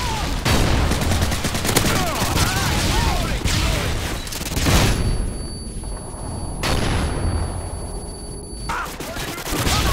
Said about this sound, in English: Using a flashbang!